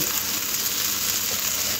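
Potato slices and onion fry in a hot pan, giving a steady, close hiss of oil that holds even throughout with no voices.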